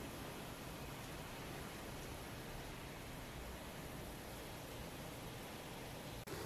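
Heavy rain pouring outside, bouncing hard off the ground while trees sway, a dense, unbroken roar of falling water that stays loud and even from start to finish, with no voices.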